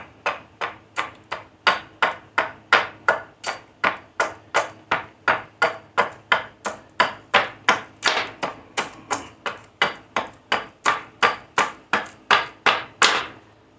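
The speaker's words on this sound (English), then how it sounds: "now I'm going to come in and hatchet some of this down" A hatchet chops down a wooden limb in a long run of about thirty sharp, evenly spaced strikes, each a crisp close knock with a brief ring, keeping a fast steady rhythm.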